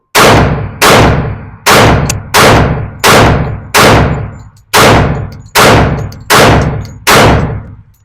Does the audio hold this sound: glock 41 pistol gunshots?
yes